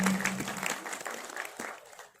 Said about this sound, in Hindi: एक बार अपने लिए और इनके लिए जोरदार तालियां बजा दीजिए